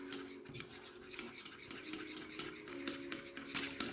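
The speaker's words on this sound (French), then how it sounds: "il faut au moins 5 minutes de mélange" Mixture for a milky face scrub stirred steadily in a bowl, giving a rhythmic scraping swish roughly every half second, close and fairly soft, with no voice.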